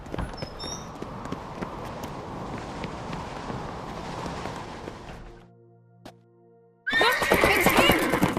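A horse in The Witcher 3 gives a loud, close whinny near the end, after a long stretch of wind and hoof movement and a brief near-silent gap.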